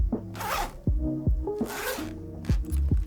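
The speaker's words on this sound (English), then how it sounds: "Zip noise is satisfying, checks out." Repeated zipper pulls on a bag, close and crisp, several quick zips back and forth in an uneven rhythm. No one speaks.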